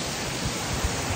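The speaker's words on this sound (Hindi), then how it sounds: "ये रहा बेल फाउंटेन" Water splashing at Bell Fountain, a steady broadband rush of falling water that stays loud and continuous throughout, with no voices.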